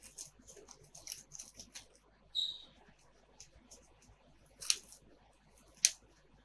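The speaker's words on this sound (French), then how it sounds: "on a besoin de papier cellophane pour finir la recette" Cellophane wrap handled in a kitchen during salmon roll and beef fillet preparation, giving quiet crinkling rustles with a few sharper crackles and snaps, close and faint with no talking.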